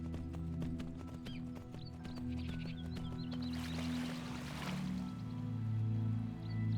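Horse hooves clip-clop in a steady rhythm inside the Skyblivion video game, with a brief whinny-like call midway, set over a constant low musical drone and ambient game sound.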